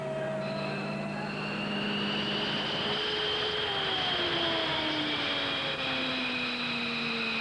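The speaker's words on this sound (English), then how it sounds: "Captain Dave Slade revs the engines." Military jet engines revved on a flight line in Saudi Arabia in 1990: a loud, continuous turbine roar with whining tones that climb and shift in pitch, steady throughout without speech.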